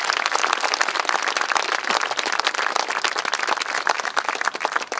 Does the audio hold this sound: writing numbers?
no